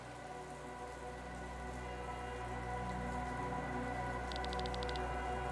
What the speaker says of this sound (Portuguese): Nossa, só chove na cidade.